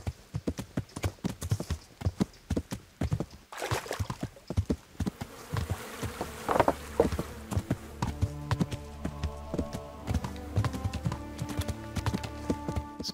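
Horse hooves clip-clop in Kingdom Come: Deliverance, with rapid rhythmic hoofbeats speeding up into a gallop, close and fairly loud, with faint buzzing insects in the background.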